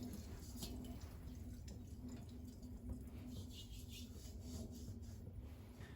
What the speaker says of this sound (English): I'll come back and hit it with the wool again